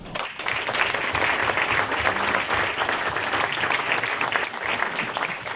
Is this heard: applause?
yes